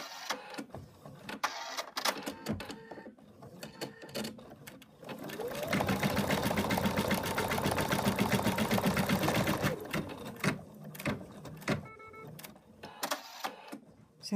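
A sewing machine stitches teddy bear fabric in a steady whirring run of about four seconds, preceded and followed by fabric handling and light clicks, with faint talk around it.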